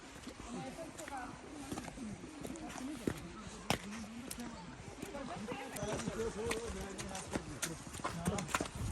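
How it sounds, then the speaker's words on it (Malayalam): A horse's hooves plod irregularly on soft, slippery snow in Kashmir, mixed with faint clip-clop thuds and occasional voices in the background. "സ്നോ ആയതിനാൽ കുതിര ഇങ്ങനെ വരുന്നുണ്ട് സ്ലിപ്പാവും"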